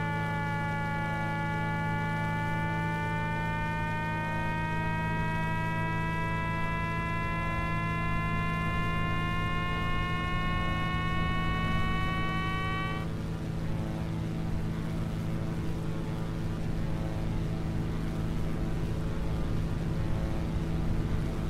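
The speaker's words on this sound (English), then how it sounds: "That beeping you're hearing is the variometer." A Microsoft Flight Simulator X glider's variometer beeps steadily during a tow launch. The tone slowly climbs in pitch for about thirteen seconds, then stops, leaving a low, constant drone.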